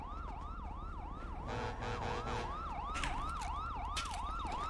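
A police siren in a GTA roleplay video game wails in a fast, rapidly repeating up-down yelp, steady and moderately loud throughout, with a few brief clatters mixed in.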